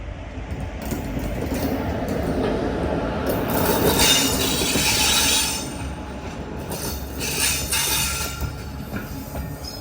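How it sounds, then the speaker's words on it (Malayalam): Madurai Junction–Guruvayur Express, train 16327, rolls into platform 3 at a Kerala station, a steady rumble of wagons and wheels with squealing that swells in the middle of the pass before easing off. "Train number 163-27 Madurai junction Guruvayur express platform number 3 ഇതാ കടന്നു വരികയാണ്. വിസിലൊക്കെ അടിച്ചാണ് വരുന്നത്"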